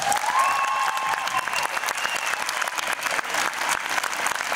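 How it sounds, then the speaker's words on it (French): A theatre crowd at a film screening Q&A in Le Havre claps vigorously and continuously, dense sustained applause with a faint tonal whistle or hum near the start. "Vous l'applaudissez très fort"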